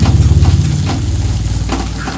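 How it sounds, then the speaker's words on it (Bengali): Chili powder, turmeric and spices being stirred in a frying pan for a potato curry, a close, steady sizzle with soft scraping strokes running throughout. "ভালো করে নাড়িয়ে নেবেন।"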